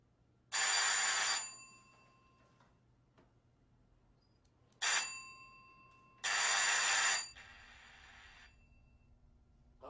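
A doorbell rings in three loud electric bursts, the first and last held for about a second each and a short ring between, with quiet room tone in the gaps and no talk.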